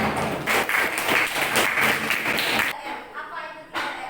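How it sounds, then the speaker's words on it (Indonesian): Students in a classroom break into steady group applause for a couple of seconds, dense and close, before it stops abruptly and a voice talks over the quiet room. "Kalau sudah benar semua, kita beri tepuk tangan untuk Evelyn dan kita semua."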